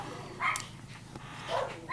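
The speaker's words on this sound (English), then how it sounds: "It looks like somebody may be home in my driveway because you can hear my dogs barking." Dogs barking at a home, a few short, moderately loud barks and yips heard from some distance, spaced about a second apart, with no talk.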